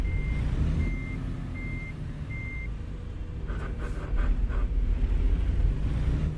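Truck reversing beeps from a video game sound as four evenly spaced electronic tones over a steady low engine rumble, followed by a louder burst of mechanical clatter and engine noise.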